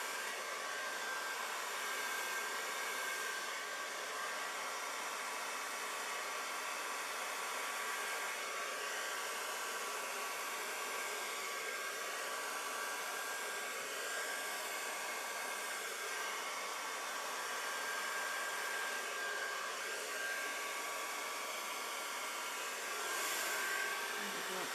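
A hair dryer on its cool setting blows steadily across a Dutch flower paint pour, with a constant, close whooshing hum that runs unbroken and alone.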